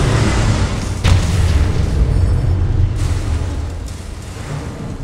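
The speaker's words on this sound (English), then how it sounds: "Warhead launched." A warhead detonating in the game Command and Conquer Rivals, a loud deep boom with a sharp hit followed by rolling low rumble that slowly fades.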